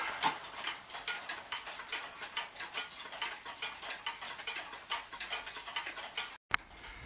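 Sessions banjo pendulum clock with steel rods for striking, ticking in a steady even rhythm, close and fairly crisp, alone with no voices, cutting off briefly near the end.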